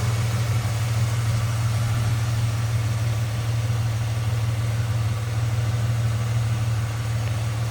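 A 1996 Ford Mustang convertible with a stock 3.8-liter engine idles steadily and smoothly, a constant low hum with no revving, heard close and alone.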